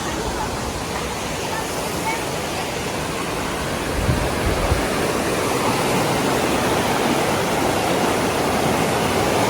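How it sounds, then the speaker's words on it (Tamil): A waterfall in a scenic spot near the French-Swiss border gives a constant, dense rushing roar that grows slightly louder and closer about four seconds in. No voices are heard. "அருவி"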